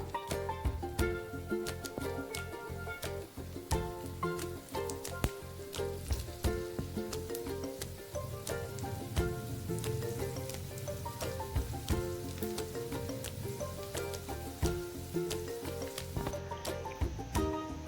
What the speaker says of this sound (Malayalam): ബാക്കിയുള്ളതും നമുക്ക് എണ്ണയിലേക്ക് ഇട്ട് കൊടുക്കാം